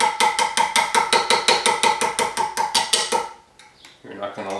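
Rapid, steady hammer blows on sheet metal while shaping a synclastic barrel box, about fifteen sharp ringing strikes in even rhythm, then a pause and softer clinks at the end.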